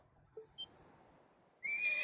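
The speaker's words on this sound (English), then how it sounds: "Oh yeah, he's on a horse." A horse in a video game lets out a sudden loud whinny at the very end, after a stretch of near silence broken only by a couple of faint blips.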